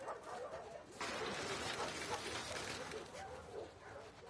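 A small dog makes soft, high whimpering and yipping sounds indoors, fairly faint and continuous over a few seconds, with no clear speech.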